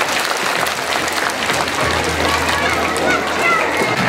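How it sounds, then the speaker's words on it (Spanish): An audience of adults and children applauds at a rural Christmas charity event in Pomabamba, a loud, dense, steady clapping with voices mixed in. "un aplauso para los señores que están realizando esta actividad"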